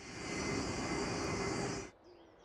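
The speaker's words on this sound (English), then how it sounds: "Turbulence is generated every time a plane pushes through the air." A fixed-wing airplane passes through the air with a broad, steady engine roar and rushing wind noise, fairly faint and distant, holding evenly before cutting off sharply near the end with no voices.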